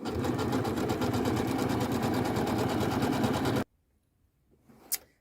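A Janome sewing machine stitching fabric, a fast, even mechanical whirring chatter running loud and close for over three seconds, then stopping abruptly into near silence with a short rustle and a faint high squeak.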